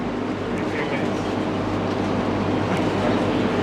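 A Penang Hill funicular train on Bukit Bendera, Penang, runs with a steady, close rumble and rattle of the rail car, and faint voices from a full carriage sit under it.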